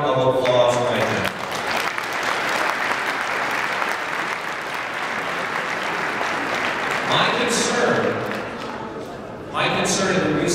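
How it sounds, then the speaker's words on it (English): Sustained audience applause fills a conference hall at a Libertarian National Convention, loud and steady for most of the stretch, with a brief voice at the start and another returning near the end. "I think they all deserve a round of applause right now."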